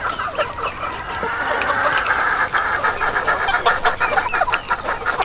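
Blue mottled hens clucking in a busy farmyard, a dense chorus of overlapping clucks and chatter from several birds with no voices.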